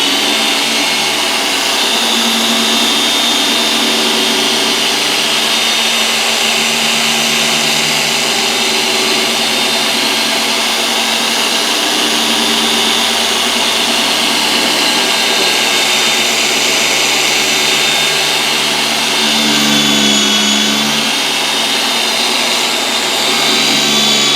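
An Adam's Swirl Killer 15mm polisher running at speed 6 on a car hood: a steady, loud, high-pitched motor whine that drones continuously throughout, with slight shifts in tone as pressure changes.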